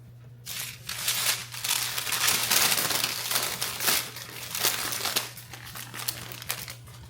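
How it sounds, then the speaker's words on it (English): Parchment paper is crinkled and handled while sourdough bread is readied for baking in a Dutch oven, a close, busy crackling and rustling that comes in bursts throughout, with a low steady hum underneath. "I'm gonna go ahead and take some parchment paper here,"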